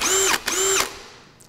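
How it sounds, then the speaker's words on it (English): A power drill with a bit in the chuck runs in two short bursts, each whining up to speed, holding, then winding down, before a quiet tail. "give the drill a twist and make sure that that bit's not wobbling really funky"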